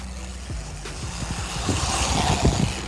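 A KFPLAN KF10 1:10 scale RC monster truck's electric motor whines in short throttle bursts, rising and falling with a rushing roll of tires and wind as it drives and jumps close by.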